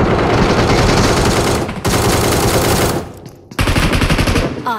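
Rapid automatic gunfire bursts in the battle royale game PUBG (BGMI), loud and close, rattling in long strings broken by two short pauses.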